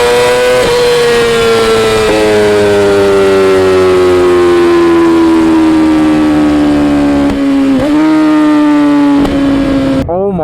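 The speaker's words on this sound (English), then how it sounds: "we're gonna hit up a little tunnel right here" A 2020 Yamaha R6 with a full titanium exhaust and flashed ECU screams through a tunnel at high revs, the pitch slowly falling, then dipping and rising again with sharp shifts, loud and echoing.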